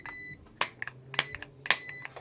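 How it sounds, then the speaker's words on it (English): An ISA Professional digital hair straightener gives loud, high electronic beeps each time a button is pressed, three distinct beeps spaced about half a second apart with faint clicks between. "it just annoys me that loud beep every time you press on it"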